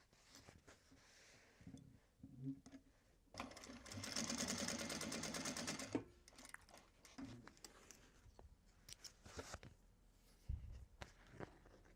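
A sewing machine stitching waxed canvas for a Japanese fabric bag, a fast rapid-fire run of stitches for about two seconds, surrounded by quieter handling noises and short stops.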